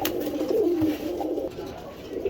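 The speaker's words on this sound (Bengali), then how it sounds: "এক পেয়ার জিরা গলা কবুতর" Soft, continuous cooing of Jira Gola pigeons close by at a pigeon sale, a low throaty murmur running steadily with a faint hiss in the background.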